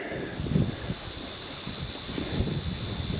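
Wind gusting across an open outdoor spot on a late-summer nature walk, a steady broadband rush with low buffeting swells, continuous and fairly close for the whole stretch, with no talking.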